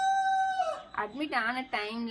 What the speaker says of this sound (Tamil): அவங்க சேவல் இருக்குது அதுதான்.